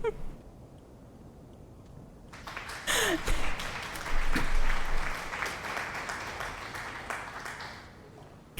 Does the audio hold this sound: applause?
yes